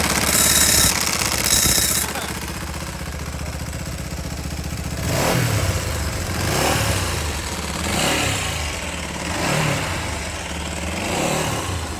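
A vintage motorcycle engine runs close by with a loud, clattering clutch, a steady mechanical rumble swelling in periodic surges after a brief burst of bright noise at the start.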